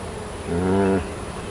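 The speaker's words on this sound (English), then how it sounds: "There's a pretty little bee with pollen on her." A honey bee buzzes near an open beehive during a June hive inspection: one brief, close, droning pass rises out of a low background hum and fades within half a second.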